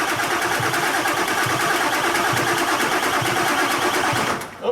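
A 7.3 Powerstroke diesel truck engine cranks over with a rapid rhythmic chugging of the starter, loud and close and sustained, before cutting off abruptly at the end.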